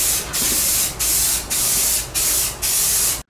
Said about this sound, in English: we got some 1K clear coat. It's an automotive clear coat.